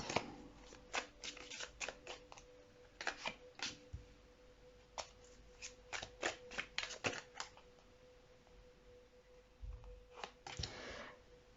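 Tarot cards are shuffled and drawn in quick bursts of crisp riffling and flicking, close and soft, with pauses between the runs of slaps.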